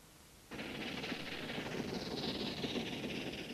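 A Ffestiniog Railway train runs along a lakeside, its noise bursting in suddenly as it leaves a tunnel, then staying as a loud, continuous hissing rumble with rattling wheels.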